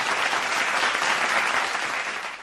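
A crowd at a poetry gathering bursts into loud, dense applause for a poet, the clapping sustained throughout before easing slightly toward the end.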